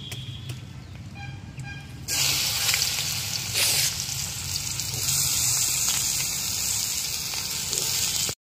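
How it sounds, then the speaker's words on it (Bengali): Washed bitter gourd drops into hot oil in a kadai and sets off a sudden loud, steady sizzle that spits and crackles up close for several seconds before cutting off. No one speaks. "তেল গরম হয়ে গেছে, আমি এবার ধুয়ে রাখা উচ্ছেগুলো তেলের উপরে দিয়ে দেবো।"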